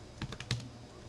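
A few quick keystrokes tap on a computer keyboard in a classroom, soft and close, a short irregular burst of clicks that fades to quiet room tone.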